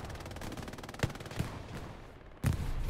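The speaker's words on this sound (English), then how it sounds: "We got the MG coming off right here" A machine gun in a video game fires steady, rapid bursts over sustained battle noise, with a few heavier impacts and a loud burst near the end. No voices.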